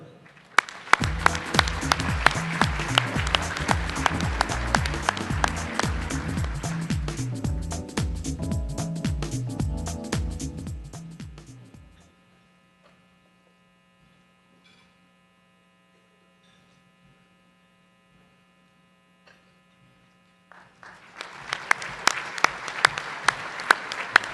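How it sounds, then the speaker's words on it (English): An audience at an awards luncheon honoring local heroes bursts into loud, dense applause that thins into scattered claps and fades out. A low electrical hum fills the quiet stretch before a second round of clapping swells back in. "let's give a round of applause to all our heroes"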